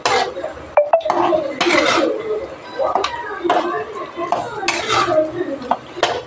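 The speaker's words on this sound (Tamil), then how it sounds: "கொஞ்ச நேரம் வதங்கட்டும்." Chicken gravy sautés in a pan while a utensil scrapes and clinks against the metal in quick repeated strokes over a constant sizzle, with voices talking alongside.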